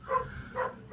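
A dog's bark sounds in the background, two short muffled yaps within a second, moderately loud and somewhat distant, with no voices.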